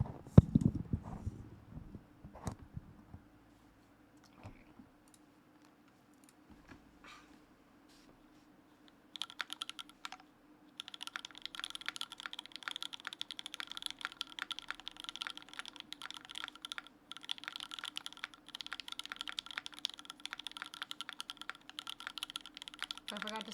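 Close, crisp clacking comes from a KBDfans Daifuku edition D60 mechanical keyboard with GMK Daifuku keycaps, an aluminium plate and no case foam. Scattered taps come first, and dense continuous typing follows after about ten seconds. A voice speaks early on.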